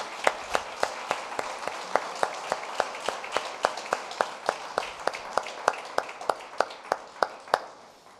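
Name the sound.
congregation giving loud applause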